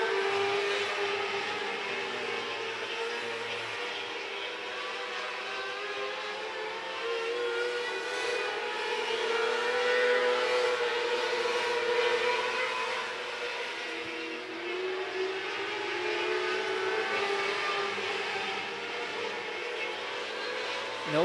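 A field of 600 micro-sprint race cars circles a speedway oval late in the feature race, making a continuous droning engine whine that rises and falls in pitch as the cars pass. The sound is moderately distant and steady throughout.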